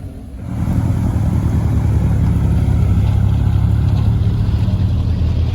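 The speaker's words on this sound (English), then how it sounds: "this is the queue to get in and the cars have to come all the way along this road" Cars queuing along the road into the Retro Rides Gathering at Shelsley Walsh, a loud continuous low engine rumble that swells in the first half second and then holds steady and close.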